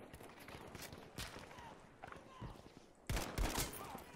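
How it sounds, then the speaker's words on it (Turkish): Rifle shots crack rapidly in the video game Battlefield 5, starting as scattered sharp reports and ending in a louder, quick cluster of gunfire near the end. "Silah çok seri atıyor"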